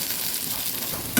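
Onion frying in mustard oil gives a steady, close, broadband sizzle with no talk, ending in a brief clatter as if stirred.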